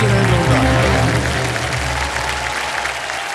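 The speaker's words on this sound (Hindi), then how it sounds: "और तालियां बजती रहें जोरदार।" Loud, dense applause from the studio audience of the Kaun Banega Crorepati television quiz show fills the room, starting strong and tapering slightly over a few seconds.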